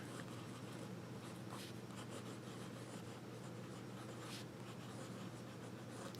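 A Waterman Taperite fountain pen with a medium nib scratches softly across paper, a faint, continuous close-up scribble of strokes and short pauses with no voices.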